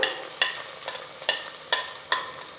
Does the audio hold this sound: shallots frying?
yes